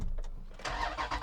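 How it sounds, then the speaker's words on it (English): A Jeep Grand Cherokee SRT's V8 cranks and fires up close by, a short starter whir followed by a sudden loud catch into a rumbling engine roar. "So let's go and start the car, because this does have a massive V8 after all."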